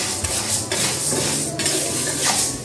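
Urad dal roasting in a pan over medium heat, with a spoon stirring and scraping in repeated metallic clinks and rattles, close and fairly loud, no voices.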